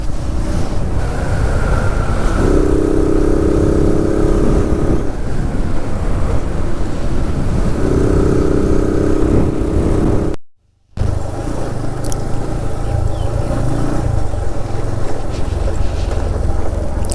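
A group of ten to fifteen motorcycles riding along a road toward a village outside Bangalore, engine drone mostly buried under heavy, constant wind roar on the microphone, with a brief dropout midway.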